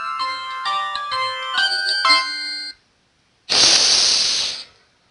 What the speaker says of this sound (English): That was a phone.